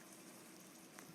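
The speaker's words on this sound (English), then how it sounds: "you're going to hear a slow simmer" Risotto with calamari, shrimp and clams simmers over a medium flame in a pan, giving a faint, steady bubbling and soft crackle close by, with no talking.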